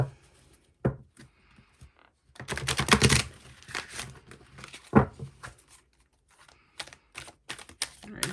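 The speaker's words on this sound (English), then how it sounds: "One more shuffle." Tarot cards riffled and shuffled by hand in bursts of crisp papery clatter, with short pauses between shuffles and a dense flurry in the middle.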